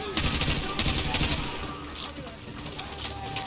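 Rapid bursts of automatic machine gun fire in Call of Duty Modern Warfare 2 Remastered, loud and continuous with sharp repeated cracks throughout.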